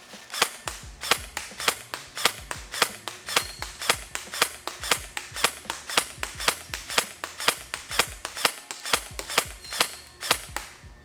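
An HK416 airsoft electric gun firing about 20 shots outdoors at a target roughly 75 feet away, a steady series of sharp, snappy single pops evenly spaced, close and loud with no talking.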